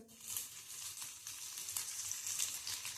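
Cumin seeds and garlic sizzle in a few spoons of hot oil for a brinjal bharit, a faint, steady crackling hiss with light irregular pops, close but quiet, with no talking.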